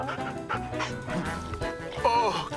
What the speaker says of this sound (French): tu es un bon chien